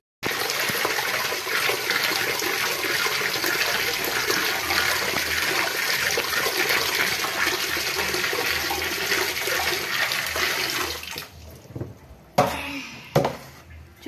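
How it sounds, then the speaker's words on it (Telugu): Ragi grains being washed in water make a steady, loud splashing and swishing that runs close and continuous for about eleven seconds, then drops to quieter drips and a couple of short sloshes. "చూసారా వాటర్లో తెల్లగా వచ్చిందాకా కడుక్కోవాలన్నమాట"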